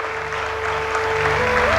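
An audience at a girls' scholarship distribution ceremony applauds with a dense, steady wash of clapping, with a faint hum from the sound system underneath.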